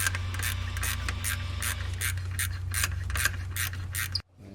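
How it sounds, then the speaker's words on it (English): Small gear wrench ratcheting a valve cover bolt on a Land Rover Discovery Series II, a steady run of close, rapid clicks that continues for about four seconds before stopping abruptly. "my fingers will run the rest of it in with a open-end wrench or a little gear wrench"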